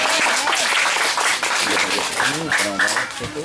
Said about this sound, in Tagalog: Palakpak po para kay Lord.